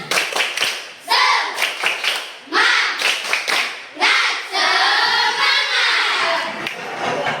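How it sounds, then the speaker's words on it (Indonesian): A group stands and claps a rhythmic spirit clap (tepuk semangat) in short, patterned bursts, with voices chanting along between the claps. "Ayo, tepuk semangat gitu."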